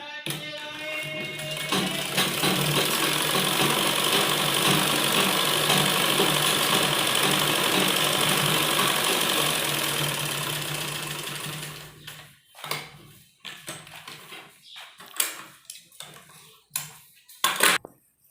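A sewing machine runs a double seam on men's underwear, a fast even mechanical chatter running continuously for about ten seconds, then giving way to scattered handling clicks and short bursts of stitching.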